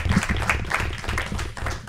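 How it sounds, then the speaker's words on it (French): An audience applauds a game jam team at a university bootcamp event, a dense steady patter of many hands clapping together at close range for about two seconds. "On vous applaudit encore."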